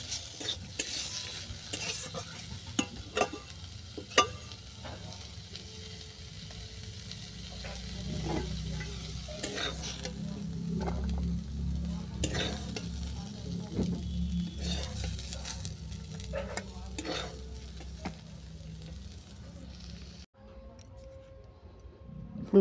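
Soybeans and cauliflower stalks are stir-fried in a pan, with steady sizzling under repeated scraping and clattering stirs of the spatula. The sizzle drops away near the end.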